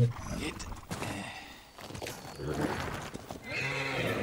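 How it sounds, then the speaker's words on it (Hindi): Horse hooves clip-clop at a gallop with whinnying neighs in the samurai action game Ghost of Tsushima, loud and close, with someone talking over parts of it. "चलो भाई चलो हमारा घोड़ा हमारा घोड़ा"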